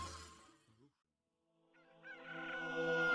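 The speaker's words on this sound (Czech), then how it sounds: "Ve vizi mě potřetí zakokrhal kohout." A rooster crows as an audiobook sound effect, a long rising and sustained call that swells in loudness after a moment of silence, following fading earlier sounds.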